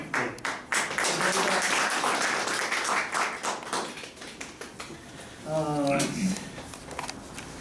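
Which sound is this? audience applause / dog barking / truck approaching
audience applause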